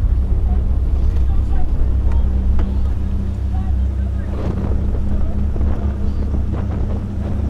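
Steady wind roars against the microphone over a rowing course during a freshman eight race, a constant low rush with faint water and boat noise beneath a commentator's voice.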